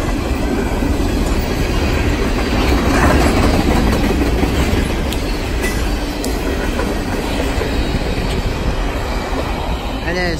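Norfolk Southern freight train rolling northbound at Charles Town with a Monongahela heritage unit, a loud, steady rumble of rail cars with clickety-clack wheels and occasional squeal, close and continuous throughout.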